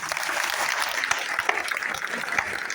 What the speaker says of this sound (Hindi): भी एक बार जरा जोरदार तालियां बजाओ।